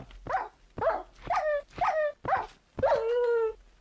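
A dog in the Minecraft video game whimpers and yips after falling into a pit, a string of short, high whining cries ending in one longer drawn-out whine, close and clear with no talk over it.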